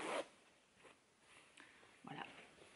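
A metal zipper being handled while sewing a pair of jeans, with one sharp rasp at the start, a softer brief rustle, and a louder zipping burst near the end, close and fairly quiet with pauses between.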